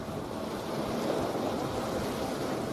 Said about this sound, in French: En même temps des vagues